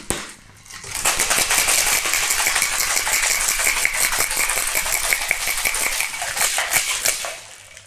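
A Painkiller cocktail is shaken hard with ice in a cocktail shaker, giving a dense, fast, continuous rattle of ice against metal for several seconds, close and loud, with no talking.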